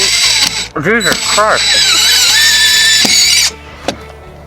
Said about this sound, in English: I'm putting in the final screws.